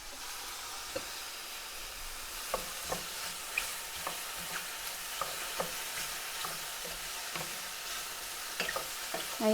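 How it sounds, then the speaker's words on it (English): Onions and mushrooms fry in a pan for a veggie stroganoff, a faint steady sizzle broken by scattered soft clicks of stirring, with no talking. "Now you can carry on colouring the onions and mushrooms if you like, and make them slightly golden."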